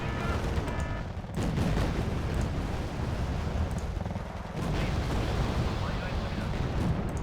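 Artillery barrages in Wargame: Red Dragon, set in a Second Korean War campaign, form a loud, dense wall of booming impacts and rumbling gunfire that continues for the whole stretch with only brief dips, and a voice speaks beneath it.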